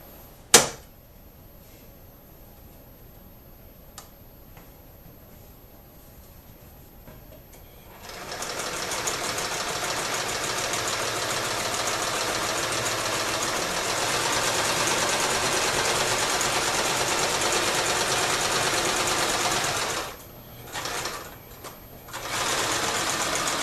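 A sewing machine stitches twine into a sandbag: after a quiet start, the motor's close, steady whirring runs for about twelve seconds, pauses briefly twice, then resumes.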